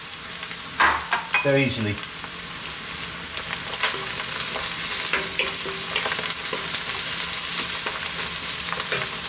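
Crushed canned chickpeas hit a hot pan with a burst of loud sizzling, then fry steadily while a spoon scrapes and stirs through them; a brief voice speaks near the end.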